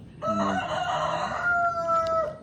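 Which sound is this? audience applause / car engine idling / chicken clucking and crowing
chicken clucking and crowing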